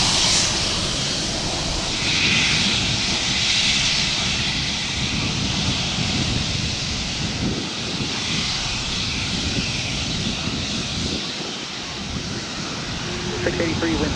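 A Delta jet airliner taking off from runway 30 left at Minneapolis–St. Paul airport gives a loud, steady, broad engine roar with rushing air that holds for the whole stretch, heard alone without talk.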